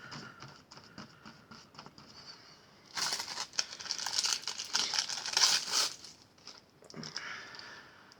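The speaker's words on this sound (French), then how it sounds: "Donc on déchire des morceaux" Paper is torn into pieces for an art journal collage, soft close rips and crinkles at first, then a louder stretch of tearing and rustling.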